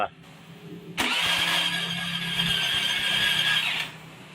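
A Honda TMX 155 motorcycle engine catches on a push start and runs for about three seconds, a steady close mid-pitched buzz with a fainter hum before and after.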